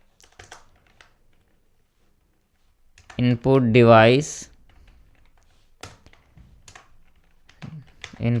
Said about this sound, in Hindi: मैं इसे टाइप करता हूँ